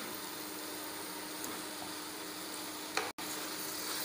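A faint, steady sizzle as 700 g of chicken cooks in hot yogurt masala in a pan for Ambur chicken biryani. A soft clatter and a brief dropout come near the end.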